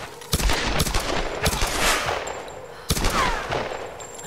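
Gunfire in the video game Tomb Raider: several loud close bursts of rapid shots, separated by brief pauses, with a dense noisy wash between volleys.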